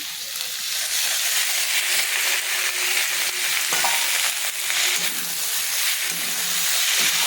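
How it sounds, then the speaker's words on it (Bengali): Ivy gourd with a ground paste fries in a pan with a steady, close sizzle and hiss, broken by occasional stirring scrapes and knocks, with no talking. "একটু হালকা করে ভেজে নিই"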